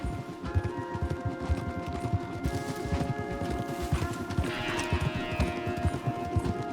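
Horse hooves clip-clop rapidly in Red Dead Redemption 2 as horses are ridden through trees, a dense, steady drumming of hoofbeats under a constant ambient drone, with a brief brighter rustle near the end.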